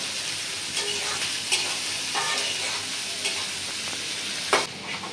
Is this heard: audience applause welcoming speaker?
no